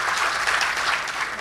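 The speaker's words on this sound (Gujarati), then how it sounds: "ખૂબ તાળીથી આપણે અભિવાદન કરીશું" At an International Mother Language Day event, the audience gives a steady burst of applause for the speaker, many hands clapping together in a full, even roar for the brief moment.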